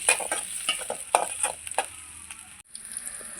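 Garlic frying in a pan for a fish puttu dish is stirred with a series of quick scraping strokes over a steady close sizzle, ending with a short pause and the sizzle resuming.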